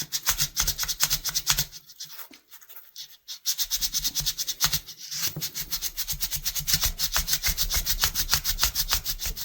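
A rusty ice pick pushes down and rubs against the blade of an old camper knife being restored, making a fast, rhythmic scraping rasp at close range, with a brief quieter pause partway through.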